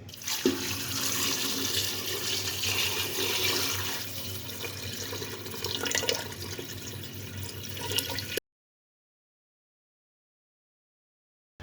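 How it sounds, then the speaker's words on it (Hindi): Water pours steadily into a pressure cooker holding goat trotters for paya, a continuous close splashing rush lasting about eight seconds, then cutting off into silence. "2 केजी हम पानी ऐड करेंगे।"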